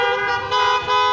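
Car horns blare in a loud, sustained tone that dips briefly twice, suggesting two honks running together, with no voices over them.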